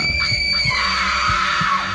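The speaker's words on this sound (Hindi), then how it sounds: "वो औरत तड़पने और चिल्लाने लगी" A woman screams in agony as a horror-story sound effect, a loud sustained shriek with a few low thuds beneath it, continuous for two seconds and without speech.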